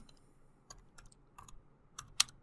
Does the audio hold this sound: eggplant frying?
no